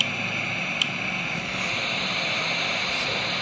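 Steady, unbroken drone of an aircraft engine in a flight video game, holding level and fairly loud through the whole stretch, with no voices over it.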